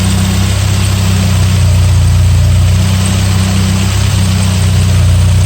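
An unrestored 1981 Volkswagen Scirocco S with CIS Lambda fuel injection idles steadily and loudly close by, a deep, even engine drone with constant low hum and no talk.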